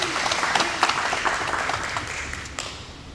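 An audience applauds a panel speaker at a COVID-19 vaccine forum, dense clapping that starts fairly strong and gradually tapers off over a few seconds, with no talking.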